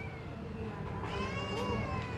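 A Himalayan cat at a cat seller's gives a couple of drawn-out, nasal meows, the second louder, against a low background hum.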